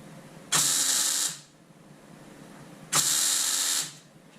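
A welder fills a small hole in the mudguard of a Fordson Major E1A tractor, two separate buzzing, crackling bursts of just under a second each, with a quiet pause between them.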